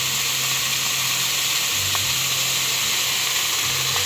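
Chayote cooking in a hot pan for pancit habhab, a loud continuous sizzle and hiss that holds steady throughout, with faint clicks of stirring beneath.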